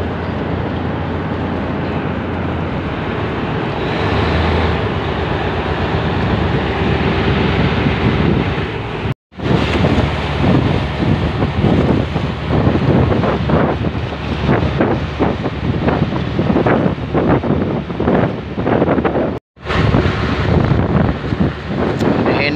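Strong wind buffets the microphone aboard a boat at an anchorage in a steady, loud roar with gusty surges throughout, broken by two brief dropouts.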